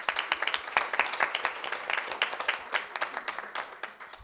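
An audience at a panel discussion gives steady, dense applause for a panelist, sustained and moderately distant throughout with no talk over it.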